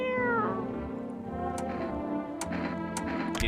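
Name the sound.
cat meowing in video game No I'm Not A Human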